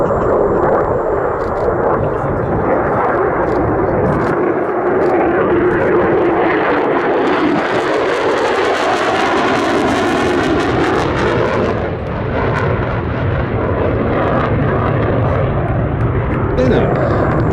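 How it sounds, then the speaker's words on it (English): Two Westland Lysanders and a Gloster Gladiator fly past at the Battle of Britain air show at Duxford. Their loud, droning piston-engine roar swells and shifts in pitch as they pass, with commentary speech over it. "Two Lysanders and the Gladiator."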